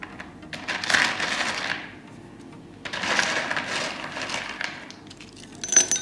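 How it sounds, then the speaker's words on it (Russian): Expanded clay pebbles poured into a glass pot without drainage holes, two bursts of rattling, clinking pouring separated by a pause, with a brighter clink at the end. "Вниз я кладу керамзит."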